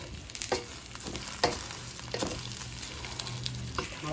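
Onion fries in hot oil in a pan, giving a continuous close sizzle with intermittent scraping knocks from a spoon stirring it, and no voices.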